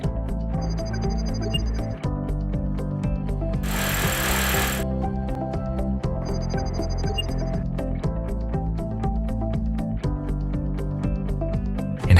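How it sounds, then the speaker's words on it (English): A power drill bores mounting holes into a wall for a Growatt inverter, grinding steadily and close up, with one harsh louder burst partway through. "Follow the installation manual to drill holes."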